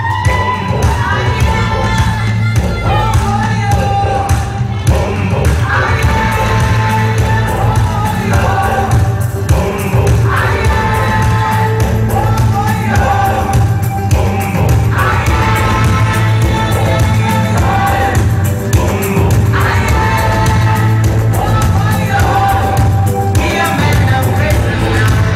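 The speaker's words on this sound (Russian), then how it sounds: "аплодисменты" Dense crowd noise at a ballroom dance festival in 2012, loud and continuous cheering and applause over music for the whole stretch, with shouts rising out of the mix.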